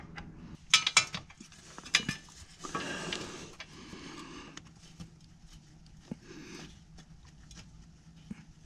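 Metal bolts clink faintly as they are handled and set into their holes during a front wheel hub assembly replacement on a 2011 Cadillac DTS. A few quick, light metallic taps come close together, followed by scattered softer knocks.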